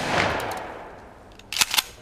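A shotgun with a 2-choke fires custom ball bearing BB ammo at a wooden target in a backyard: a loud blast with a fading tail, then a few sharp, close cracks follow.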